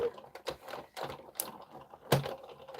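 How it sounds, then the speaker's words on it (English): A manual die cutting machine for crafting a pop-up card gives off a series of close, irregular clicks and knocks as the handle is cranked, with uneven bursts of mechanical rattling and no speech. "Run it through my die cutting machine"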